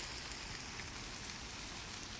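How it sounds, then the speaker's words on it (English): A hose sprays water on guava trees outdoors, giving a soft, continuous hiss like rain pattering on leaves, fairly quiet and unbroken. "These are the guava trees that I'm spraying particularly right here, and a chamoya tree."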